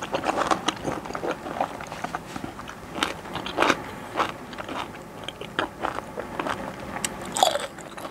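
Crunchy bites and moist chewing of a Lao raw beef and liver dish with bitter dipping sauce, close and irregular, with faint background noise and no talk.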